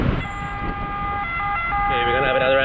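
An ambulance siren passes on a road near Lake Como, Italy, during a bike ride: loud, close sustained tones that shift into a wavering wail near the end.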